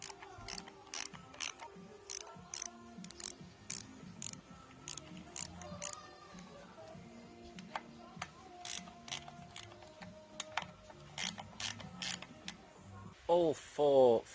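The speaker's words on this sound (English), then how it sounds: "it's probably a safe bet to just loosen them all off first before completely removing them" A ratchet loosening the cylinder head cover bolts on a Kawasaki KLR 250 motorcycle, sharp clicking strokes repeating in short runs, close and fairly quiet, with a brief louder burst at the end.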